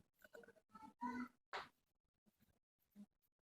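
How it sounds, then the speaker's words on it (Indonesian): A cat meows a few times nearby, short quiet cries separated by pauses, with faint background sounds. "Apa-apa ya, ada kucing ya."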